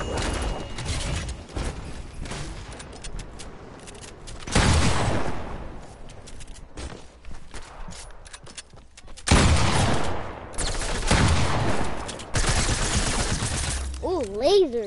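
Gunfire in the video game Fortnite, bursts of rapid shooting and mechanical clatter alternating with quieter stretches, game effects close and loud with some voice in the mix.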